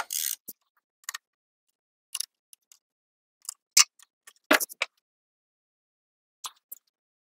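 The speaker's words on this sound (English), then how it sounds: "So you need a ratchet and a socket." A ratchet with a socket clicks in short bursts while loosening battery terminal screws on a chain-drive Jolly Dolly, close-up sharp ticks separated by silences.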